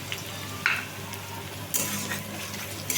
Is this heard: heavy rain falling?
no